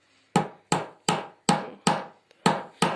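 A nail is hammered into a thick wooden stick while building a bird feeder: seven sharp, evenly spaced blows ring out close and clear, with quiet gaps between them.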